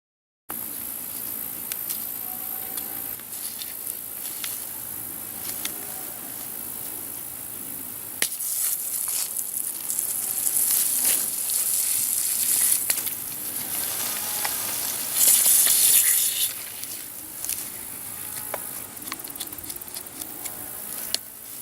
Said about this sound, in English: We should have drips to start come out here and there along the little emitters.